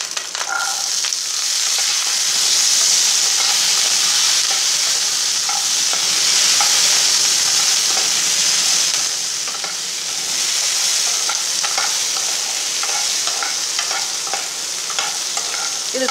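Salted boiled peanuts tumble into a hot pan and are stir-fried, giving a steady bright sizzle with repeated scraping and clattering from the stirring spoon, close and continuous with no talking.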